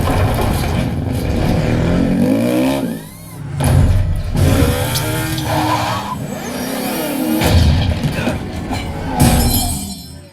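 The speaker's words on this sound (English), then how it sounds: "The car race should fill your entire listening space with very discrete and directional sound effects" Car race sound effects from the Ready Player One movie in an Atmos mix, a dense, loud stretch of roaring engines, crashes and tire noise that swells and dips throughout.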